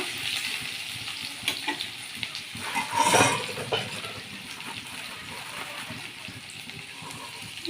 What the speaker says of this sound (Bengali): দেখো আমার আলুটা বেশ ভাজা হয়ে গেছে।